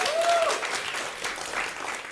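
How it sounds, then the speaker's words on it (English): A comedy festival audience applauds an audience member named Naomi during a live mix-tape themed show, a dense, steady wash of clapping filling the room, with a brief whistle early on. "a round of applause for Naomi, friends"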